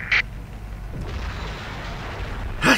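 A helicopter crashes and explodes in the retro tank video game GMA Tank Commander: a short sharp blast at the start, a rumbling low-end stretch, then another loud explosive burst at the end.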